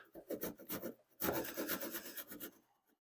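Hand sawing a wooden piece partway across, heard as close rhythmic rasping strokes, a steady back-and-forth run of about a dozen pulls before fading out.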